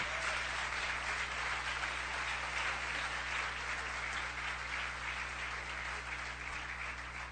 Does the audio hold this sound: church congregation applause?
yes